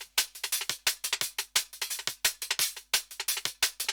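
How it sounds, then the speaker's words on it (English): Self-made drum and bass drum sample: a fast, tight breakbeat of crisp snare and kick hits in a steady driving rhythm, clean and alone with no talk. "And that is one of my drum samples, I believe, that I made."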